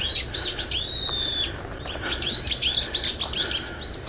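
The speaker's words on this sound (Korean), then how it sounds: "울창한 나무숲길을 따라 걷다 보면 이름 모를 새들이 지저귀는 아름다운 노랫소리가" Wild birds chirp and call in a forest on Hahwado, an island near Yeosu, with bright overlapping tweets and trills, close and fairly loud, some rapid repeated notes, over a soft outdoor background.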